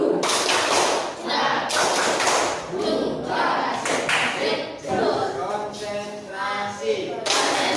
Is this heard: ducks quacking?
no